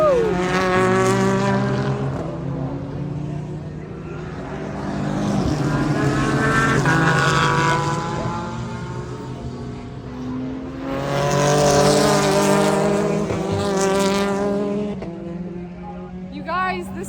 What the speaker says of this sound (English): Now IMSA is racing right now